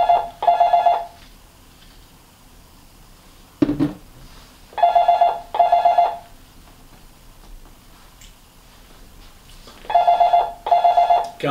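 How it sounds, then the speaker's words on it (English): An office telephone rings in repeated electronic double bursts, fairly close and clear, separated by long quiet gaps, with a single brief knock partway through. "Can't talk when the phone's ringing, can you?"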